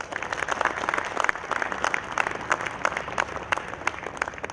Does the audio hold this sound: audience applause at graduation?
yes